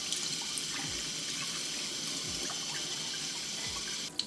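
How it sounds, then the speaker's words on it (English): Water runs steadily from a tap with a constant hiss while mung lentils are rinsed in a sieve, a few soft swishing and rinsing sounds surfacing now and then. "You wash it couple times before the water runs clear."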